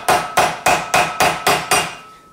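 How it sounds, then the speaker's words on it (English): A hammer drives a socket tool onto a very tight bolt: six loud, evenly spaced metallic strikes, each ringing briefly before the next, followed by a short fading ring. "I need a little bit hammering"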